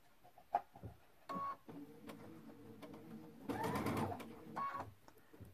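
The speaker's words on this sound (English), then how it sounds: "Sew a few stitches." A sewing machine stitching quilt pieces for a modified cathedral window quilt runs in a few short, quiet bursts of rapid stitching, separated by soft handling noises.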